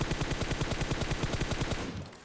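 Rapid automatic gunfire in PUBG Mobile, a loud burst of closely spaced shots firing in quick rhythm for about two seconds before cutting off.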